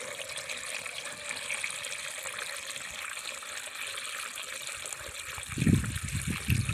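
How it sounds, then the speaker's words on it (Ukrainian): Water flows steadily into a mole burrow dug in garden soil, a soft continuous trickle that swells near the end into louder gurgling gushes. "бо дивіться, вода тече, тече, тече, тече."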